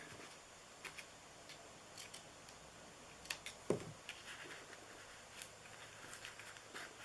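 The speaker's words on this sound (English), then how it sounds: "let's trim that ribbon here" Scissors trim a satin ribbon for a birthday party favor, making a few faint, sharp snips and clicks scattered over a quiet room.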